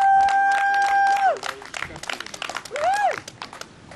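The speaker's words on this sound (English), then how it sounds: "Big round of applause for them." A crowd at a fishing tournament weigh-in claps and cheers for the anglers, with two loud, sliding whistles cutting through scattered clapping and shouting voices.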